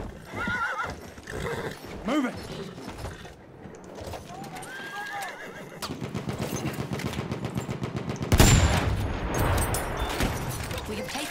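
In the World War I shooter Battlefield 1, a galloping horse whinnies and neighs with clip-clopping hooves, mixed with bursts of machine-gun and rifle fire, while players talk briefly over the action.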